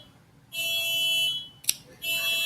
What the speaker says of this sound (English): Great, the car alarm's going off outside.